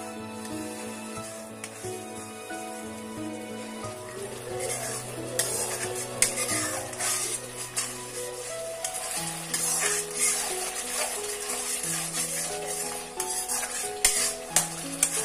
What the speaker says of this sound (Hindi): अब इसको भुनने देंगे, बीच बीच में चलाती रहूँगी जब तक मसाला जो है वो अच्छे से तेल ना छोड़ दे